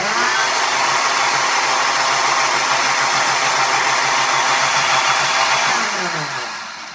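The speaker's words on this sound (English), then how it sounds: "after I blend this up" A blender runs steadily at high speed while mixing a healthy pumpkin spice latte, a loud continuous whir that holds for several seconds before winding down near the end.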